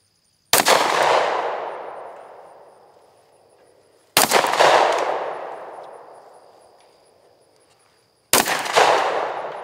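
Three loud single pistol shots, a Sig Sauer or Glock with green fiber optic front sight, fired several seconds apart outdoors, each sharp crack followed by a long fading echo.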